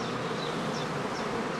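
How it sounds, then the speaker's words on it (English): Honey bees swarming out of the entrance of a heather skep in an apiary, a dense, steady buzzing hum from many insects close by, continuous and loud for the whole stretch. "Swarming begins with the first scouts pouring out of the entrance."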